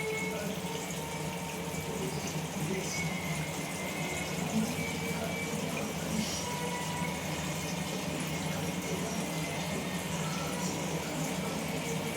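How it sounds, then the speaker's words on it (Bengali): Water poured into a pan of frying ground spice paste of coriander, cumin, chili and ginger, making a steady, continuous rushing hiss that holds at an even level without any speech. "দিয়ে দিলাম একটু জল, মশলাটা কষবো।"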